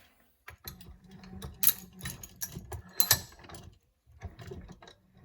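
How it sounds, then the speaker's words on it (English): Metal trap parts being worked by hand as the pan is night latched, giving a run of close, sharp clicks, scrapes and ratcheting mechanical clatter in uneven bursts, with brief pauses between. "Now I'm going to night latch the pan"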